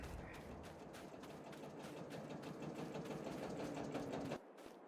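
A vintage International Harvester tractor engine chugs faintly in the background with a fast, even mechanical patter that runs steadily before dropping off abruptly near the end.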